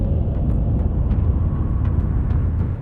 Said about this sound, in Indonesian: pasir yang bernyanyi.